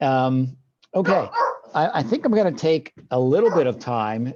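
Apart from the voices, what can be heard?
dog barking in the background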